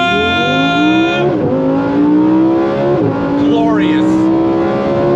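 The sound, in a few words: Lamborghini Huracan Sterrato V10 accelerating on throttle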